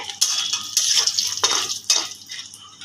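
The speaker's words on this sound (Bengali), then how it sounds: "পুরো মাছটাই ভাজা হয়ে গেছে এখন বড়ি ভাজা চলছে" Lentil dumplings (bori) frying in oil in a pan, with a low sizzle beneath several sharp scrapes and clinks of a metal utensil against the vessel, close by and uneven in rhythm, no speech.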